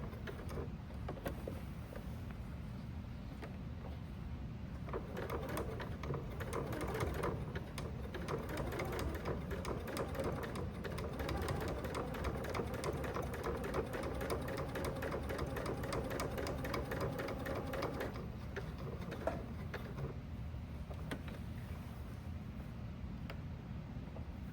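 Sewing machine top stitching a messenger bag, a continuous fast mechanical whir with a rapid needle chatter that holds steady for most of the stretch before easing off near the end, no voices.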